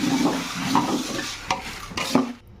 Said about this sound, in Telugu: యాడ్ చేసుకొని ఇది కూడా కొద్దిగా రోస్ట్ అయ్యే వరకు రోస్ట్ చేసుకోవాలండి